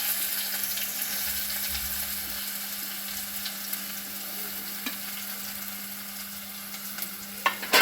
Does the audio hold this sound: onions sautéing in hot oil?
yes